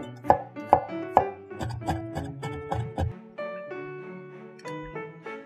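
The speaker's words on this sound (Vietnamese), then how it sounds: "Bây giờ mình sẽ băm nhuyễn tụi nó nha các bạn." A knife minces shallots, garlic, ginger and a seeded chili on a cutting board, a run of about a dozen sharp, close chops at an uneven pace, the early strokes loudest, with no talking.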